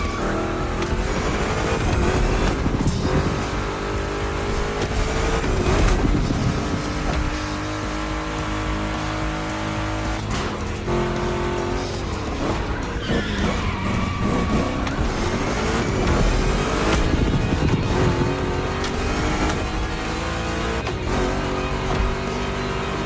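Two Chevrolet big-block cars race in The Crew Motorfest video game, their engines roaring loud and constant with revs climbing and dropping through gear changes, and tires squealing and skidding through turns, with no voices.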